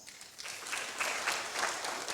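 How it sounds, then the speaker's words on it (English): An audience claps in a burst of quick, dense applause at a gathering honouring Kenyan athletes, moderately distant and fairly soft, holding steady for about two seconds with no talk over it. "I think we need a clap for that."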